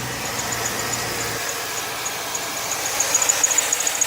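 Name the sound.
truck engine idling with squeaking drive belt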